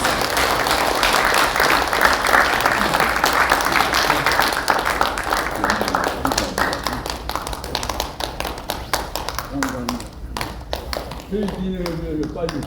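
Audience applause for a professor at a Korean patriotic award ceremony, dense sustained clapping filling the hall and thinning toward the end, with a voice speaking over the last few seconds.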